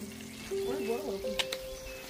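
Food fries in a pan over a wood-fired stove at an outdoor cookout, a soft sizzle under quiet voices, with a couple of brief sharper clinks near the end.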